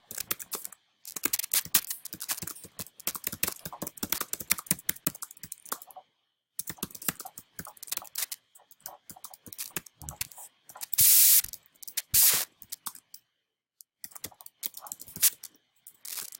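Rapid bursts of keystrokes on a computer keyboard as a reply is typed, clustered clicks with short pauses between, close and clear with no talking.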